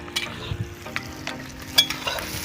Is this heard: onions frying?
yes